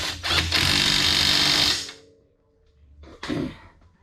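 Impact wrench (zinger) tightening a suspension bolt during a wheel bearing and lower ball joint install on an SRT-4: a loud, steady buzzing burst lasting about a second and a half, then quieter clunks and a short second burst.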